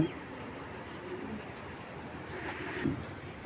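Racing pigeons coo softly in a loft, a low steady murmur of overlapping calls running throughout with a slightly louder coo near the end, no talking.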